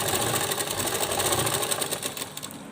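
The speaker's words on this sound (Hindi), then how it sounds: "अब हम सिलाई लगा देंगे इसके ऊपर" Sewing machine running steadily while stitching a Laddu Gopal (Kanha) dress made with a straight strip, a close, continuous whirring rattle that holds for the whole stretch and eases slightly near the end.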